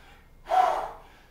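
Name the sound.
heavy breathing during kettlebell exercise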